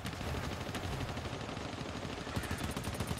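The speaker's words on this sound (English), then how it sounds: "The machine gun's gonna be hard" Sustained automatic gunfire in the co-op shooter GTFO, a dense unbroken roar of rapid shots lasting throughout, loud and close with no voices.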